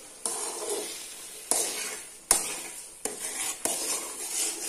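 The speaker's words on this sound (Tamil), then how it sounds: "இப்ப ஊத்தியாச்சு, நல்லா கிளறி விட்டுடலாம்." Jackfruit halwa being stirred in a pan, with a spoon scraping and knocking against the metal in five or six distinct strokes over a soft simmering hiss, close and without voices.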